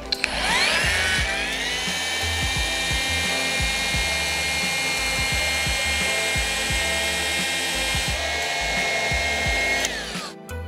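A machine polisher with a polishing pad on an extension works car glass, giving a steady high whine that holds unbroken for about ten seconds, near and loud, with no talking.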